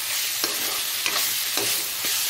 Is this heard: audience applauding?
no